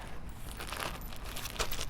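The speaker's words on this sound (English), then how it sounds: "I've got my little twist tie, and I've got my plastic bag." A plastic bag is crinkled and rustled by hand during garden air layering of a fruit tree, alongside a twist tie and soil; a steady close crackle runs throughout, with a few sharper crinkles and no talking.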